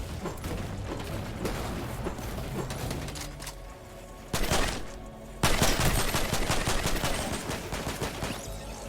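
Fortnite gunfire crackles in rapid bursts during an arena match, moderate at first, then a louder volley mid-clip and a sustained heavier stretch of shots to the end.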